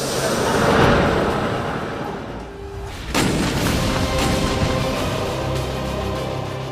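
An Indian ATAGS towed artillery gun firing: a heavy boom and rumbling roar, then a sharp, loud second blast at about three seconds that echoes and rolls away into the distance.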